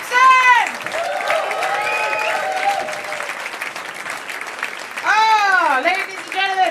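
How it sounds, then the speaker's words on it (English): Audience applause and cheering fill a Brighton comedy club, Komedia, after stand-up comedian Julie Jepson's set. The clapping is steady and loud throughout, and a voice speaks over it. "Another round of applause for Julie Jepson!"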